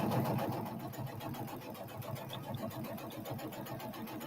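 A sewing machine runs steadily at a moderate distance, a continuous mechanical whir with fine rapid stitching pulses and no talk over it.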